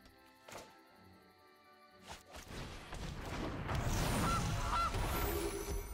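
A goose honks from the Gilded Goose card in the digital card game MTG Arena, a short game sound effect that rises in loudness after a few quieter clicks and thuds.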